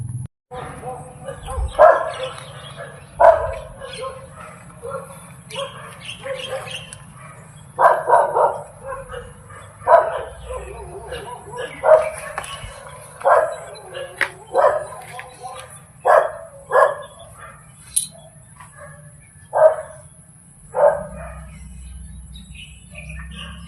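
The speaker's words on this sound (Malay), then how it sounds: "Anjing marah lah. Dog is angry." Angry dog barking in repeated sharp bursts at a steady pace over more than twenty seconds, heard at a moderate distance over a low constant hum.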